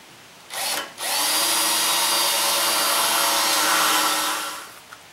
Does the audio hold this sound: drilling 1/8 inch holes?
yes